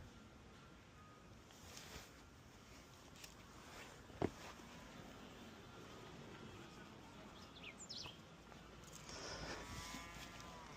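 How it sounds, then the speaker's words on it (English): A cow moos somewhere in the distance in an open outdoor setting on the way toward Machu Picchu, a low, drawn-out call under steady wind and ambient noise, with faint bird chirps and no close talking. "did you hear that moo?"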